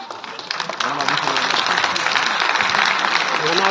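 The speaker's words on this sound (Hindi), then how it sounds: "जोरदार ताली से" Loud crowd applause at a Valmiki Jayanti ceremony in Panchkula: clapping starts a little softer, then swells within a second into a full, sustained roar of many hands, with a voice audible under it.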